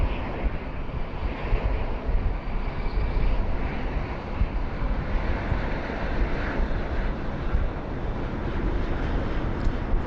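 Virgin airliner at Sydney Airport on a high-wind day, a continuous broad jet engine roar with wind buffeting the microphone, steady and fairly loud, no talk heard.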